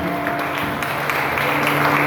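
A church congregation applauds during a worship service, a steady wash of clapping hands filling the room at moderate loudness with a faint sustained tone underneath, continuous throughout.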